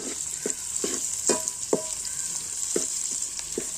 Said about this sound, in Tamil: இப்போ அது நல்லா வதக்கணும்.